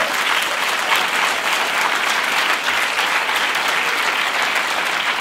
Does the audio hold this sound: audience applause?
yes